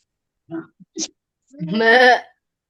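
A sheep or goat bleats once, close and clear, a drawn-out wavering cry after a few short, faint sounds.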